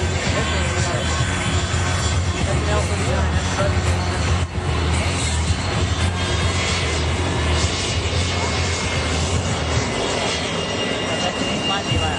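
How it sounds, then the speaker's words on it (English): An aerobatic airplane at the Reno Air Races roars loudly and continuously through a knife edge tumble, while an announcer talks over the engine noise. "Watch the leading edge of the wing, ladies and gentlemen, as the aircraft spins around in the knife edge tumble"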